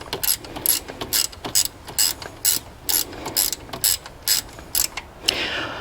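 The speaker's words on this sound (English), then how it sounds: "Got us a little ratchet wrench here" A small gear ratchet wrench clicks in quick, close bursts, about a dozen short rasping runs of pawl clicks separated by brief pauses, with no talking over it.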